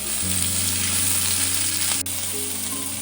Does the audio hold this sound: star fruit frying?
yes